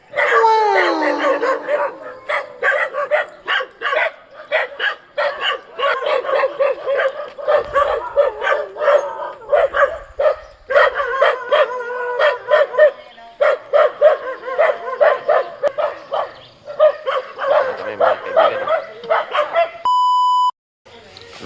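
A pack of dogs barks and yelps almost continuously at close range near a rural home, overlapping volleys, followed by a short electronic beep at the very end.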